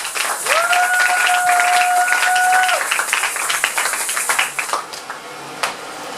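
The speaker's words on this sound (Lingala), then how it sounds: "Acclamez très fort pour le Seigneur" A church congregation at an evangelical service claps loudly and cheers, a dense, steady wash of applause with voices mixed in and a sustained whistle-like tone early on, fading slightly toward the end.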